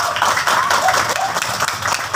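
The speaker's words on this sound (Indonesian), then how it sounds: "Tepuk tangan dulu untuk anak-anak kita." An audience claps for a children's jatilan troupe at a traditional performance, with dense, steady applause filling the short moment and no talk over it.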